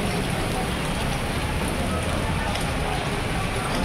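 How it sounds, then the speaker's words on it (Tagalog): Heavy rain pours steadily in Baler, a dense, continuous hiss with no pauses, loud and close. "sobrang ulan po ngayon dito sa Baler"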